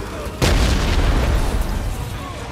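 A heavy explosion booms suddenly in the PS5 game Guardians of the Galaxy during a boss fight, a loud deep burst followed by a long rumbling decay.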